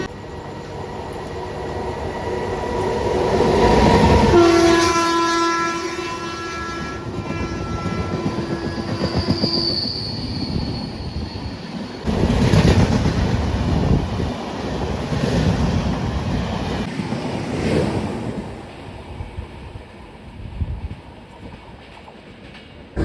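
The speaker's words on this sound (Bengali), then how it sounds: "আর আমাদেরকে ওভারটেক মারবে ডিব্রুগড় থেকে কলকাতা স্পেশাল ফেয়ার" The Dibrugarh–Kolkata special express thunders past a stopped train, its horn sounding loud and long near the start before the rushing roar and wind buffeting of passing coaches fill the rest, no talk.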